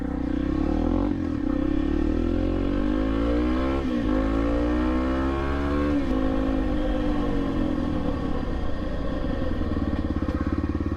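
Motorcycle riding along a highway, its engine droning steadily up close with pitch rising and falling through gear changes, loud and continuous for the whole stretch, with no talking.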